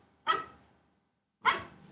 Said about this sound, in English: I prefer her to bark with a treat in her mouth.